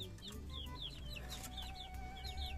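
Several chickens cluck and chirp continuously around a remote rural village, with a faint steady hum beneath the scattered calls at moderate distance.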